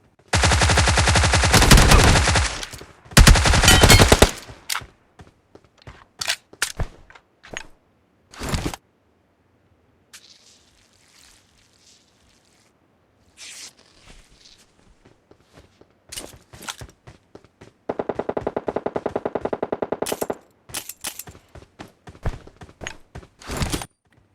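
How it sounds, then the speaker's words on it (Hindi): Gunfire in the mobile battle royale game BGMI: loud sustained automatic bursts up front, then scattered single shots, footsteps and quieter pauses, with another heavy burst of fire near the end. "इतने में हमको गन साउंड आता है इधर से"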